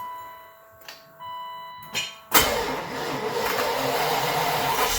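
A BMW E32 engine cranks in brief bursts, then catches with a sudden loud roar that holds steady at a rough, even idle before quitting, close to the listener.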